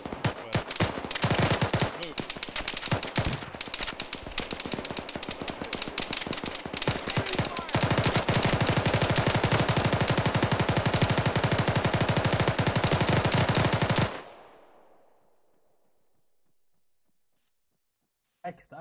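Sustained automatic gunfire in a military shooter video game, dense rapid bursts hammering loudly for about fourteen seconds before cutting off abruptly into a fading echo and near silence, with a faint click at the very end.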